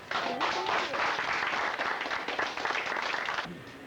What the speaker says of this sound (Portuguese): Cadê as palmas?